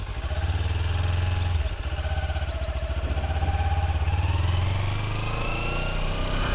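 A motorcycle engine running close by as a learner practices riding, a steady throbbing putter that dips briefly and then holds an even, slightly rising note, loud throughout with no talk.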